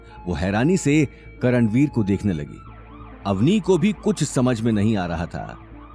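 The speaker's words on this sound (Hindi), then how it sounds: "उन्हें दरवाजे के बाहर से पुलिस के सायरन की आवाज सुनाई दी" A police car siren wails outside a door, a steady tone running under continuous narration by a storyteller speaking Hindi.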